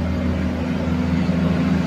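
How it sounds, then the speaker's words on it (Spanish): Heavy truck rumbling past on a road, a steady low engine drone that stays loud and close for the whole moment, with no talk. "Esperamos que pase el camión."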